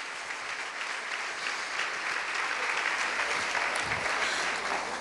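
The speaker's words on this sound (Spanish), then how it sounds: "Denle un aplauso al Señor" Congregation applauding the Lord during an evening Spanish-language church service, a dense, steady wash of many hands clapping that fills the whole stretch without pause, with no voices rising above it.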